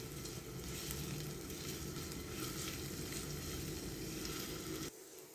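Ginger paste and chopped green chili fry in a pan over a medium flame, giving a constant, dense sizzle that runs evenly and then drops off sharply near the end.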